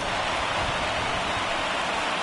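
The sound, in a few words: rain falling during a baseball game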